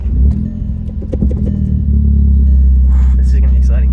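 A Volkswagen GTI rumbles at low engine speed as it pulls away, a steady deep drone with light clatter, and a person talks over it.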